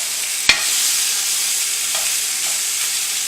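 Chicken pieces brown in a hot pot with a steady, close sizzle and hiss, broken early by a sharp knock of a utensil against the pot and a couple of softer stirring sounds.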